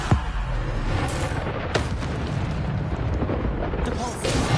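A Bombarda spell explosion in Hogwarts Legacy, with a sharp blast at the start, followed by further booming impacts and rumbling over a dense game backdrop, with some talking mixed in.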